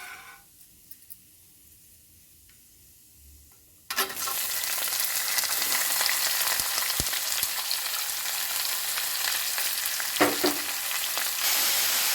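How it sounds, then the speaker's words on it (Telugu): Chopped onions and green chillies hitting hot oil for egg bhurji: near silence, then a sudden loud sizzle that holds steady with occasional stirring clinks. "దీంట్లో ఇప్పుడు తరిగిన ఆనియన్, చిల్లీ మిర్చి ముక్కలు, ఉల్లిపాయ ముక్కలు దీంట్లో వేసి వేగనిద్దామండి."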